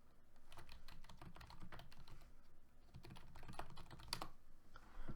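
Typing on a computer keyboard during an online Magic card game, a steady run of clicky keystrokes in irregular bursts, close and fairly quiet, with no talking.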